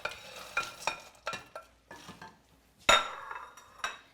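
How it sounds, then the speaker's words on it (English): Peanuts stirred into boiling sugar syrup in a pan, heard as a series of distinct scraping stir strokes and clinks of the utensil against the pan, close by, with a louder sharp scrape near the end and no talking. "And now I keep stirring to coat the peanuts"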